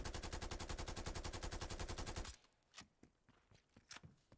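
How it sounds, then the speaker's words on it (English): Krig 6 rifle in Call of Duty Cold War firing a rapid sustained automatic burst for about two seconds, then stopping, followed by a few soft clicks and thuds. "we're going to go a bit further back this time and we're going to shoot right here"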